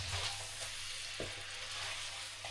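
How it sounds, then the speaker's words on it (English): Spicy garlic butter seafood crab gets stirred in a pan. A dense, continuous sizzle and hiss carries through the whole moment, with one brief scrape of the spoon, close and steady. "I'm just gonna stir it."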